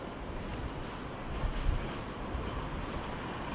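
A train rolls past at a Budapest railway station, a dense, steady rumble and rattle up close, with a few louder clanks midway and no voices.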